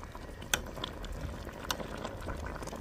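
Squash in coconut milk simmers in a pot with a soft, continuous bubbling burble, punctuated by a couple of sharp clinks, moderately close and without talk.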